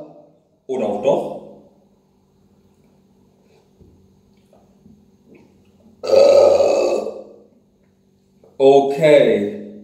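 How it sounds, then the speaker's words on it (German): Three loud, close burps from a person who has just eaten about 400 grams of cake and drunk tap water, spaced apart with quiet stretches between them, the last two long and croaky. "Gut, der Rülpser kommt heute anscheinend auch nicht so dolle raus."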